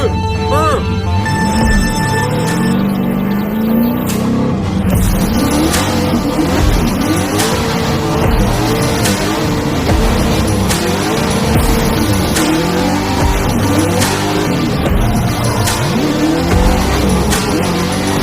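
A car accelerates hard on a timed run without nitrous. The engine drones loudly and steadily and rises in pitch through the gears, with occasional tire noise and excited voices talking over it throughout.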